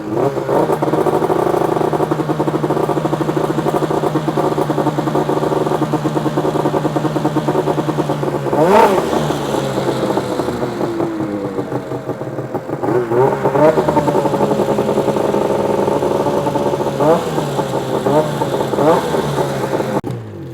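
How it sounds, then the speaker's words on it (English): Snowmobile engine run briefly during summer storage prep, a loud steady two-stroke drone with occasional blips and revs rising and falling, close and continuous for the whole stretch. "we're just going to run the sled a little bit"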